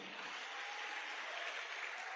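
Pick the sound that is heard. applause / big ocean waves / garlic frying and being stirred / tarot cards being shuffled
applause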